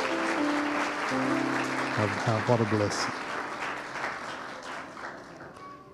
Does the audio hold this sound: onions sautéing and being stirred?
no